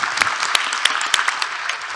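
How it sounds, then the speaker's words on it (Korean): Audience applause at a university presidents' association general meeting, a steady dense wash of many hands clapping together with a few sharper claps standing out, fairly loud and continuous throughout. "한번 박수로 감사의 표시를 했으면 좋겠습니다."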